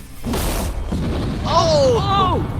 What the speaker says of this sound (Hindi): आगे हम एक पूरे के पूरे गांव को एक क्रीपर धमाके से उड़ाने वाले हैं